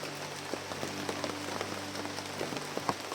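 Steady rain patters on a surface, a dense even hiss broken by scattered nearby drips and heavier drops, with a faint low hum running underneath.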